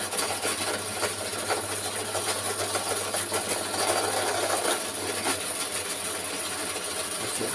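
A metal part for a gauge 1 model locomotive is worked by hand to clear a burred hole, a soft raspy scraping under a steady low hum, moderately quiet and close.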